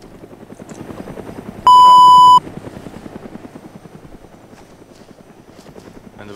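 A helicopter in the DayZ video game flies steadily throughout as a constant rotor chop, loud and close, briefly cut across by a sharp tonal beep.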